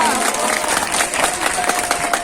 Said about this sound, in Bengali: তার জন্য আরো জোরে একটি করতালি করা উচিত